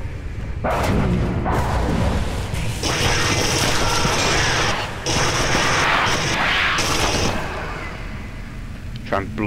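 Gunfire rattles through a Marine mission of the video game Aliens vs Predator, with dense, loud bursts and heavy mechanical clatter filling the clip over a constant rumbling game background, plus a sharp burst at the end.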